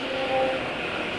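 An old motorcycle engine with worn bearings, running on an oil mixture with Xado additive, gives off a steady, even mechanical drone heard close up, with no talking.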